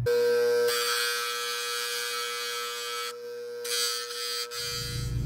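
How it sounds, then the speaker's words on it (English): A dental model trimmer hums with a steady motor buzz while grinding down a plaster model, running continuously at close range before spinning down at the end. "After I put the model through the trimmers"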